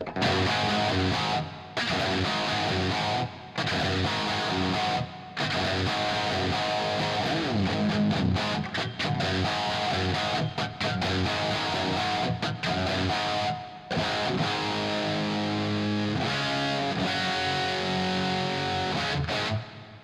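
Electric guitar with a hotter wound 14K Mite pickup played through a distorted amp, loud crunchy riffing with chugging chords and short pauses between phrases, no voices.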